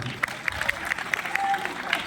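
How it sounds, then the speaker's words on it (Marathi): Audience at a game show clapping for the winners, with a fairly thin, scattered applause of individual claps under a voice talking. "टाळ्या वाजवा त्यांच्यासाठी"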